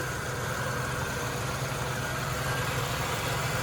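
A Buick Reatta engine idles with a loud, even, continuous rumble that holds steady without change throughout.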